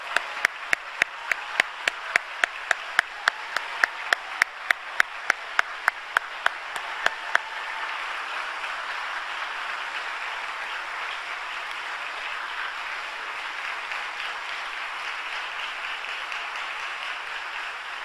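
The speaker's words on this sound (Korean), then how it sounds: "자리에 내서 일어나실 때 따뜻한 박수로 환영해 주시기 바랍니다" A church congregation applauds to welcome overseas missionaries and members at a Friday all-night worship service, opening with sharp rhythmic claps that settle into a steady, sustained wash of clapping.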